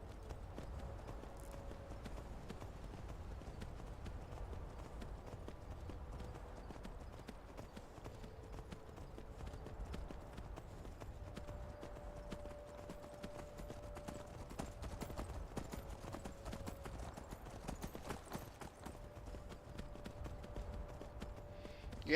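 Continuous rapid clip-clop of horse hooves in Skyrim, a steady trotting rhythm at moderate distance over quiet game ambience, with a faint tonal hum.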